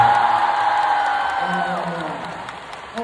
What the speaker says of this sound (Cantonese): 我哋俾掌聲 dancer 上翻嚟啦